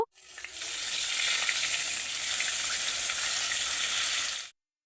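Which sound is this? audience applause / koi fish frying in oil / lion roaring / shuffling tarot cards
koi fish frying in oil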